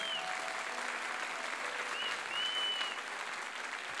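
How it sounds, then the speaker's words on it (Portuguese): At a Catholic worship night of praise, a crowd breaks into steady, sustained clapping. Faint whistles and cheers drift through it. "Pode aplaudir."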